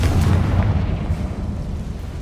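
A Confringo spell explosion in the video game Hogwarts Legacy, a deep, loud blast with a rumbling low-end body that decays gradually over about two seconds, with no voice over it.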